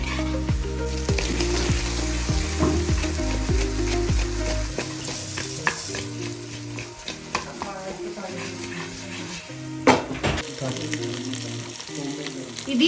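Chicken fry pieces for a Rajahmundry-style biryani sizzle steadily over a high flame, loud and close, with frequent stirring scrapes and clinks of a spoon against the pan; the frying is heaviest early on and settles into quieter stirring later.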